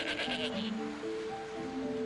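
Goats on a Fijian island bleat in wavering, overlapping cries, somewhat distant, against a soft windy background.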